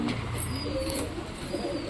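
Soft, low pigeon cooing repeats under a steady background hum, fairly close and moderately quiet.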